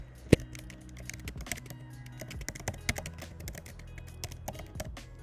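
Computer keyboard keys clatter in a steady run of close, crisp taps while a Perl comment is typed, with a sharper single knock near the start and no talking.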